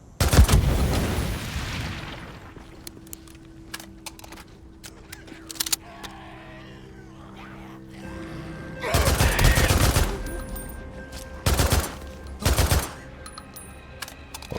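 Gunfire in the video game Days Gone Remastered: an opening blast, then a few sharp single shots and several loud rapid bursts spaced apart, with quieter ambient game sounds between them.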